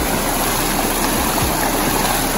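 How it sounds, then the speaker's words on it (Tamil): A forest stream at Top Station rushes with a steady, close, broadband wash of flowing water while someone washes their face in it, unbroken by any voices. "ரொம்ப நேரம் கழிவுக்கு அப்புறம் தண்ணி கண்டு பிடிச்சிருக்கோம்."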